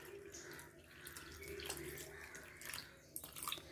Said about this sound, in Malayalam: ഇതിലേക്ക് 1/2 ഗ്ലാസ് വെള്ളം ചേർത്ത് കൊടുത്തിട്ട്